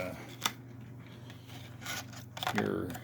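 A plastic two-piece clamshell case for an Athearn Genesis BNSF FP45 model locomotive is handled and opened, with a sharp plastic click early on and a scraping rustle near the end over quiet room noise.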